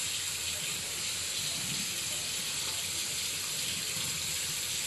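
A bathroom sink tap runs steadily as hands are rinsed, producing a constant broadband splash and hiss that stays even and close for the whole stretch.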